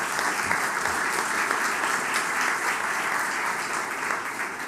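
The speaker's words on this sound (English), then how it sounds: "let's give them a round of applause" Warm, sustained applause from an audience honoring commission members at a state outdoor recreation announcement, a thick uniform clatter of many hands clapping steadily for several seconds without speech.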